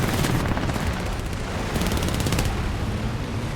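Machine gun fire from a P-26 biplane in War Thunder, dense and continuous, with rapid bursts rattling over a steady engine roar, with no talk.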